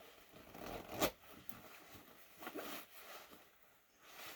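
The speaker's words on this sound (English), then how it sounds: "And then you zip the hood completely up." A quick zipper pull rasps once, sharp and close, as a parka hood is zipped completely up, followed by soft fabric rustling and a fainter scrape in an otherwise quiet space.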